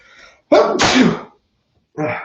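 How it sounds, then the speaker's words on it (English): A single loud, close sneeze bursts out after a brief intake of breath, followed by a short pause and some faint vocal sounds. "There was my sneeze."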